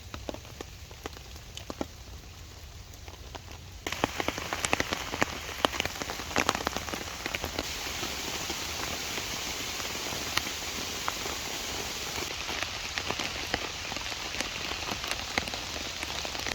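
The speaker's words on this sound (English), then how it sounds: "The Vango Nevis 100 has now been sitting in the rain for a good 5 hours" Rain patters steadily on a Vango Nevis 100 tent during solo wild camping, a dense hiss of drops that grows louder partway through and continues without a break, close and even, with no voices.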